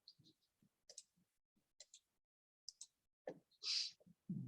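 Keys on a MacBook keyboard are pressed in a sparse series of light, close clicks, with one louder, brighter tap near the end.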